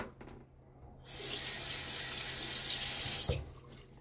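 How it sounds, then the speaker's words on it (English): A tap runs into a sink for a few seconds, a steady close hiss of flowing water used to wet the face before shaving, then cuts off abruptly near the end. "let's throw some water on my face"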